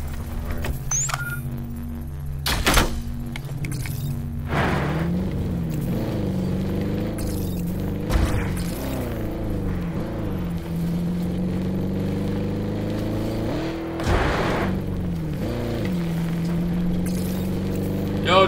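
A vehicle in Call of Duty Blackout drives close by, its engine revving and wavering in pitch with squealing and clattering as it passes near, loud against the battlefield background.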